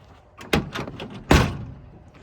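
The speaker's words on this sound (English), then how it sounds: "I didn't shut this door all the way." Two solid thuds of a 1965 Ford Mustang's door being shut, the second heavier, close by with a brief resonant tail.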